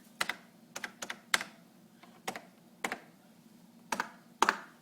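Typing on an IBM Model M keyboard: a handful of sharp, loud clacks arrive in uneven bursts, some doubled, with a steady low hum underneath and no voices.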